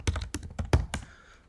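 Five crisp keystrokes tap out on a computer keyboard in an uneven rhythm, close and clear, with a faint tail of room noise after the last key.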